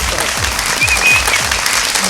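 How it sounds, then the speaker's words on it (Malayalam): A studio audience bursts into steady, dense applause for a young boy's Rubik's cube flag feat on a comedy show, with sustained clapping throughout and no talk. "നല്ലൊരു കൈയടി കൊടുക്കണം പ്ലീസ്"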